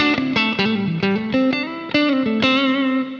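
Electric guitar through a Lace neck pickup on a clean tone with light reverb, a warm melodic line of single notes and slides ringing alone, each note sustaining into the next.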